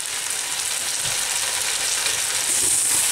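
Chili hitting a hot stir fry for a spicy sirloin and baby spinach dish with udon noodles, giving a steady, loud, close sizzle with dense broadband frying hiss that holds throughout and swells slightly toward the end.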